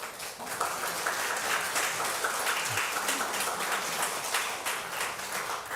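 A church congregation at a Sunday service claps to welcome visiting guests, a steady, moderately distant applause that lasts several seconds with no voices over it.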